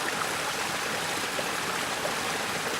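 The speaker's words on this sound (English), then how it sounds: "The Bosch Dishwasher sprays water at the perfect angle and pressure to remove even the most stubborn" A Bosch dishwasher sprays water with a steady, hissing, rushing wash, an even broadband spray that holds constant throughout at moderate loudness.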